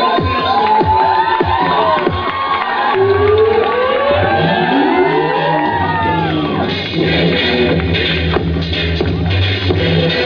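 Students at a school academy party cheer loudly and whoop with rising shouts, a lively crowd of young voices, with scattered clapping underneath the excited yells.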